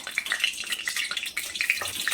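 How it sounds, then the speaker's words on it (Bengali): Hot oil crackling and sizzling steadily in a heated wok as potatoes are fried, with a bright, continuous hiss and scattered pops and no talking. "আলু ভাজা করব বলে কড়াই খুব তেতে গেছে চলো ভাজা করে নিই এই দিয়ে দিলাম তেল"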